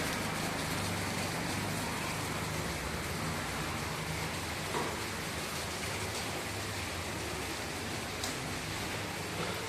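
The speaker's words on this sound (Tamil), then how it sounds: "மழை பெய்து கொண்டே இருக்கின்றது" Heavy rain falls without pause over flooded streets in Redhills, Chennai, a continuous close roar of water on surfaces with faint traffic-like rumble beneath and no talk.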